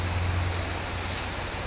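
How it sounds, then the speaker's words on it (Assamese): Heavy rain pours down steadily, a dense even hiss of drops on surfaces filling the whole moment, with a low hum underneath and no talking. "আজি বহুত বেছি বৰষুণ দি আছে"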